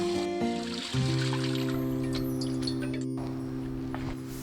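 Water runs from a tap over a freshly killed eel being rinsed clean, a steady soft trickle and splash with small handling clicks, fairly quiet and close.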